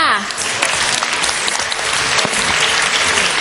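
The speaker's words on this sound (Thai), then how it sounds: "ขอเสียงปรบมือด้วยค่ะ" Loud, close audience applause at a Thai award ceremony, greeting the third-place school team, dense and steady clapping throughout with some voices mixed in.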